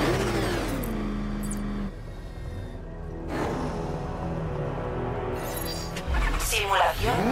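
The Batmobile engine in Batman: Arkham Knight on PS5 roars and revs steadily, holding a continuous loud drone with a pitch swell near the end, mixed with other game sounds.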